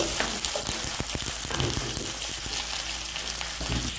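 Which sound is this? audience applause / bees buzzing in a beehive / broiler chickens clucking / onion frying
onion frying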